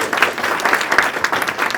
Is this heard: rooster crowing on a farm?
no